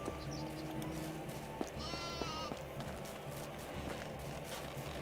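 A sheep bleats in the medieval farming game Medieval Dynasty, one wavering bleat around the middle over a low steady background, with a few soft knocks and footfalls nearby.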